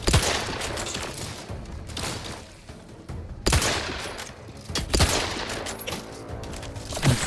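Gunfire in The Outer Worlds 2, played on the hardest difficulty: bursts of shots and sustained automatic fire from several directions, loud and dense, with sharp reports standing out around the middle of the stretch.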